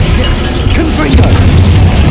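A Confringo blasting curse explodes in Hogwarts Legacy, a loud, close, rumbling boom that fills the whole moment, with a brief crackling burst partway through.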